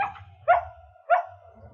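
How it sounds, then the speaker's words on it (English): A dog barks twice in two sharp, spaced yelps as an audiobook sound effect, clear and close over a low background hum. "As Monica gave the boy the dog, it began to bark wildly."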